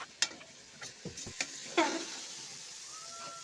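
Soaked rice is stirred into a tomato bath mixture in a pan, giving a handful of scattered scraping clinks over a faint, steady sizzle, close and quiet.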